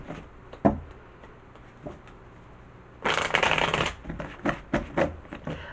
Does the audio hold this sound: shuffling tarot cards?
yes